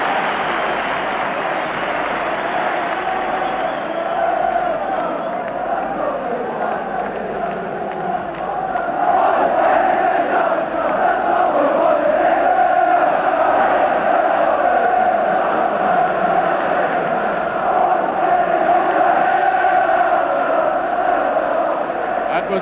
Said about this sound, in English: The crowd rising to him though.